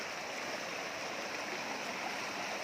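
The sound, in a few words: waterfall at Bayugan Falls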